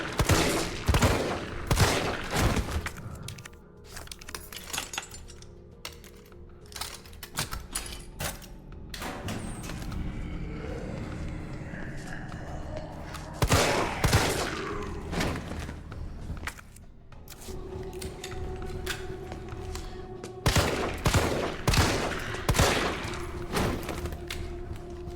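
Bursts of gunfire from the Resident Evil 3 video game, several loud clusters of rapid shots separated by quieter stretches of ambient game sound, with no talking.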